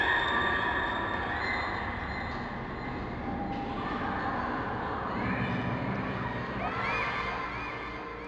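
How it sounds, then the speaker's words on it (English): Faint, distant children laughing and screaming at a playground in Half-Life 2, a continuous murmur of young voices blended into a dense, steady ambient game backdrop. "If you listen very carefully while you're entering the playground, you can actually hear the faint sound of children laughing and screaming."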